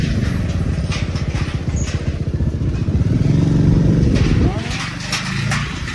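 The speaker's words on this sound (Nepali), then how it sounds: "सस्पेन्सन ब्रेकमा बाइक कुदाउँछ" A motorcycle engine drones steadily while the bike rides across a suspension bridge, with rattling clatter from the deck and a shift in engine pitch near the end, all heard close up.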